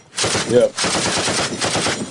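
Gunfire from the Trump rally shooting in Butler, Pennsylvania, a loud crackling burst of several shots in quick succession, then a second burst after a brief gap, with sharp repeated reports and echo.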